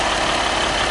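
A 2015 RAM 1500 Longhorn pickup with a 3.0-liter EcoDiesel turbo diesel V6 idling, giving a steady, loud, dense engine rumble and clatter up close with no talking.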